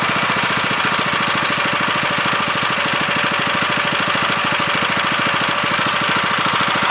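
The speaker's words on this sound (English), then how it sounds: "I'm going to set the engine RPM to a good idle speed." A Kohler small engine idles steadily nearby after carburetor cleaning, a loud, even rapid chugging pulse that holds constant throughout with no talk.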